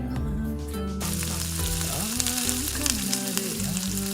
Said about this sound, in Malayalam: എണ്ണ ചൂടായതിനു ശേഷം ബീഫ് അതിലേക്ക് ചേർക്കുക.